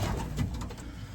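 A Tachyon racing pigeon cock coos nearby, a soft low throaty call rising and falling over a faint rustling background, with no talk.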